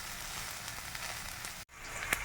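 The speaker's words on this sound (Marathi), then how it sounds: "2 पळी तव्यावर तेल टाकलेलं आहे. कांदा फ्राय होत आहे." Chopped green onion fries in oil on a hot tawa for a mutton dish, giving a steady, close hiss and crackle with no talk.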